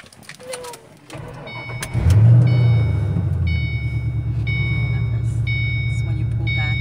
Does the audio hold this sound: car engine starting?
yes